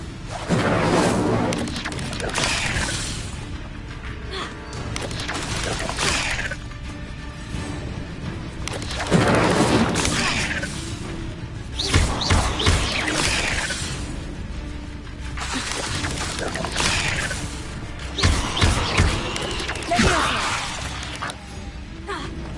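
Incendio fire spell blasts in Hogwarts Legacy, repeated loud whooshing bursts and thuds spaced through a busy combat scene, with crashes and impacts between them and occasional voices.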